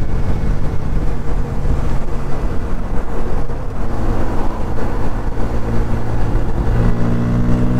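A 2023 Bajaj Pulsar N160 E20 motorcycle ridden on a road in traffic: a continuous, loud engine drone mixed with wind rush, with a steadier humming tone settling in near the end.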